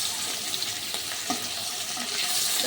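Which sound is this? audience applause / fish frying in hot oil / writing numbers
fish frying in hot oil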